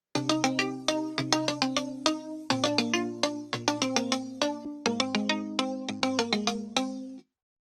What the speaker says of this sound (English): pan one delay to the left and one delay to the right